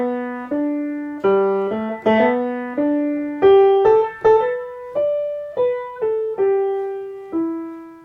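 Solo piano plays a melody in slip note style, quick grace-note slips resolving into the melody notes, crisp struck tones ringing out one after another, close and with no talking.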